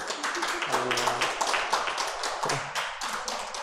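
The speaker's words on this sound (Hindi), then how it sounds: "तो फिर मेरे लिए ताली तो बजा दो।" A small yoga class clapping hands, quick uneven claps and taps close by, with a few voices talking faintly underneath.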